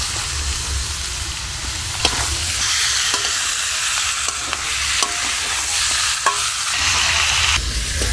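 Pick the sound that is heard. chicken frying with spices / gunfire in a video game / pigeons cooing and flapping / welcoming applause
chicken frying with spices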